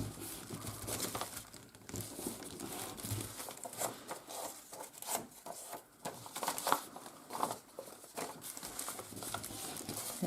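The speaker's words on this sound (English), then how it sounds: "So this one's got fold marks there, so I'm actually going to fold it" Paper for a faux vintage binder is folded and distressed by hand, with soft crinkling, rustling and crumpling noises in irregular bursts, close and fairly quiet, with no one talking.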